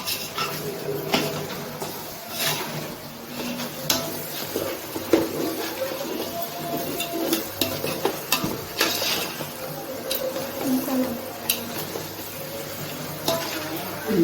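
Masala frying in hot oil in a pot for goat head curry, stirred with a utensil: a constant loud sizzle and crackle broken by frequent scraping and clanking strokes of the spoon against the pot, close up.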